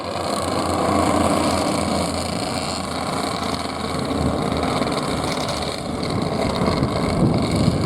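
Several Ka2 racing karts circle a track during a pre-final heat, their engines a steady, distant drone with wind buffeting the microphone throughout.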